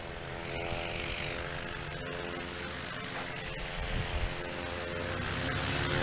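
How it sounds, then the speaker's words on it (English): A blue and white Cessna 170 comes in for a short takeoff and landing competition, its propeller engine droning steadily at a moderate distance with a faint rise toward the end. "And Nathaniel kicking that beautiful blue and white Cessna 170."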